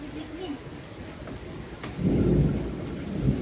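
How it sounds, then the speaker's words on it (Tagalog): Steady rain hisses throughout while a deep roll of thunder swells midway and lingers, rumbling low and heavy. "Kumukulog, kumukulog pa siya."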